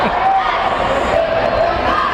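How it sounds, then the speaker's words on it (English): A basketball crowd at a boys' regional semifinal game boos in a dense, steady roar of many voices that fills the gym, loud and continuous with no distinct words. "And the crowd is booing."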